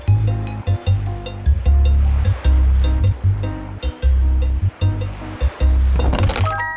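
Rolling surf breaks on a beach in the video game Evering, with loud, repeating swells in a regular pulse and a sharper, hissing wash building near the end.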